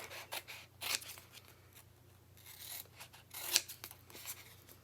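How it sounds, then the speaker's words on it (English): Scissors snip through layered vinyl and medium-tack transfer tape, giving several crisp, close cuts with soft rustling and rubbing of the material between them. "I'll come in with my scissors,"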